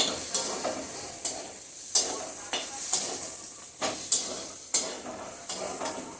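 Soybean chunks frying with spices in a pan for a ghonto with Gobindobhog rice, a spoon scraping and stirring in repeated sharp strokes over a steady close sizzle, no talk.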